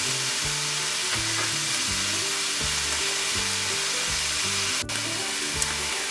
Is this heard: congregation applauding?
no